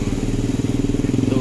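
A bus engine running during a trans-Java coach trip from Wonogiri to Jakarta; a close, steady low rumble with a fast regular pulse runs throughout the short stretch.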